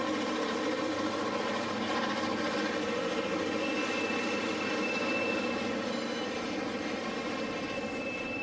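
An HO-scale model of the Western Pacific Zephyr leaves a tunnel on a Feather River Canyon layout, giving a steady, continuous mechanical rumble and hum with faint high whine and no talking.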